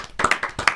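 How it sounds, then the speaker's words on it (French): A few quick claps from a small group during a relaxed chat show, short uneven bursts close by, brief and informal. "Non, faut même l'applaudir, je suis trop contente qu'il soit là."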